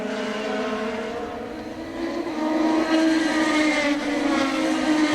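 Zytec V8 Formula 3000 race car engines droning at high revs during a 2002 race in Brazil, a sustained buzzing roar that swells louder midway as cars pass nearby.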